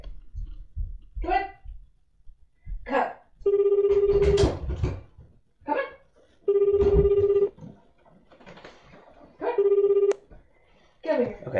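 A phone line repeats a busy tone in three evenly spaced bursts, each about a second long, with a person talking and rustling between them.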